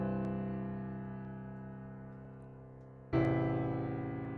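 Sustained synth chords with extra top notes stacked on the final chords, sounding alone and fairly quiet; a new chord swells in near the end with a brighter, fuller attack before slowly fading.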